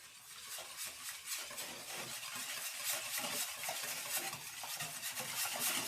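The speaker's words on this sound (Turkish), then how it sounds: "iyice karıştırıyoruz" Milk mixed with liquid cream being stirred thoroughly for a Turkish magnolia milk pudding, giving a steady scraping, swishing rhythm against the bowl, fairly quiet and without voices.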